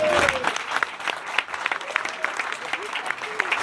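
An audience at an album making-of presentation claps for a photographer, a dense, lively burst of applause with a few whistles or cheers mixed in, fairly loud throughout.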